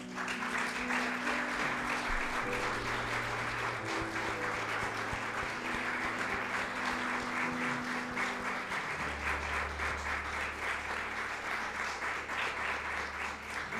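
Sustained applause from an audience at a religious interview gathering, dense and steady clapping filling the whole stretch without pause, close and loud.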